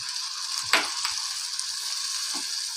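Ginger garlic paste, turmeric and ground spices frying in a pan for aloo gosht, a steady soft sizzle with a brief stirring clatter near the start and a fainter one toward the end.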